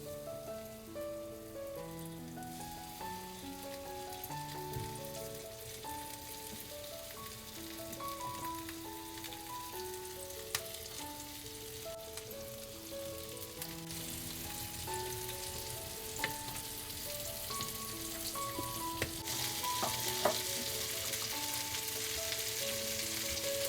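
Bangda mackerel fry in hot oil in a pan with a continuous, even crackling sizzle that stays steady throughout, while a melodic tune plays in the background.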